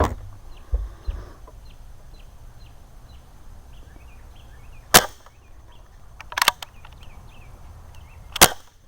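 A Crosman 760 air rifle with a rifled barrel fires 7.4 grain pointed pellets, giving three sharp, isolated cracks spaced seconds apart over a quiet outdoor background where chickens cluck faintly.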